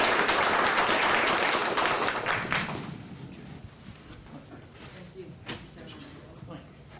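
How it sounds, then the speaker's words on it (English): An audience at a public forum applauds, loud dense clapping that fades over a few seconds into scattered claps, rustling and murmured voices. "let's give a round of applause to Chris as she comes forward with her presentation"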